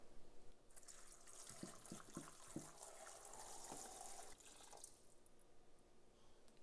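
Half a gallon of water pours into a large 20-quart stock pot for pho, a steady close splashing stream with a few drips, fading toward the end.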